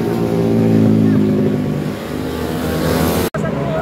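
A Suzuki Raider 150 motorcycle engine revs hard nearby, a loud buzzing drone that holds high, dips briefly and climbs again, with a sudden cutoff near the end; the engine fills the clip without clear talking.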